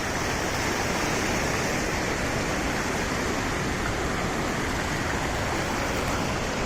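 Narmada River rushing through Bhedaghat, a loud, unbroken roar of churning waves and currents, dense and constant from start to finish with no voices.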